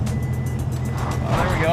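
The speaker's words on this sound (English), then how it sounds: "It does not go anywhere, but I can hear the motor revving." A stationary Toyota Prius revs its motor, giving a loud, steady engine hum with a slight rise near the end, while voices talk over it.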